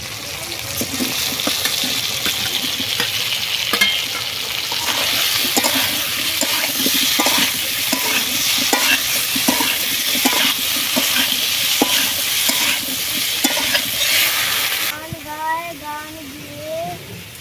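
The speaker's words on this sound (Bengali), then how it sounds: "আদা দিয়ে খানিকক্ষণ নেড়ে এবারে কচুমুখিগুলো দিয়ে দেব।" Ginger and taro pieces are stirred in a hot pan, a continuous sizzle with regular scraping strokes of a spatula, ending with a brief splash of water.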